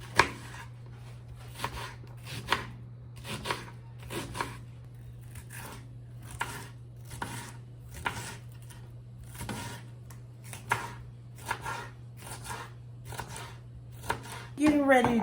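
Onions and bell pepper are chopped on a board with a steady series of knife strikes about every half second, close and crisp, over a constant low hum, with a voice entering at the very end.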